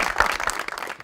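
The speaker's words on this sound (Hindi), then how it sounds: "बहुत सारी तालियां।" Brief burst of audience clapping on a Pakistani television comedy show, a dense patter of hands at moderate loudness lasting about a second.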